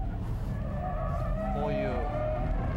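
A Nissan R34 GT-R V-Spec drifts on a mountain pass, its engine note and a rising tire squeal heard from inside the car while someone talks over it.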